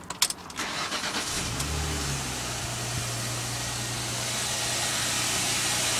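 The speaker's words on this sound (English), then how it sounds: "We'll just give the car a little run up to circulate everything round." A Jaguar X-Type cranks briefly and its engine catches, then settles into a steady, quiet idle just after an oil change, heard from close by with no talk.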